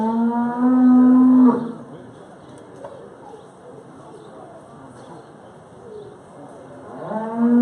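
Dairy cows moo at a 4-H county fair dairy show. One loud, drawn-out moo opens the clip and another begins at the end, with quieter barn and crowd murmur in between.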